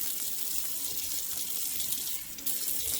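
Hot tap water runs steadily into a kitchen sink for rinsing collard greens, a continuous close splashing hiss for the whole stretch with only a brief dip near the end.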